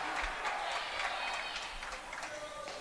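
Crowd noise at a high school boys varsity basketball game rises in a steady, broad roar of cheering and shouting voices from the stands, sustained without pause.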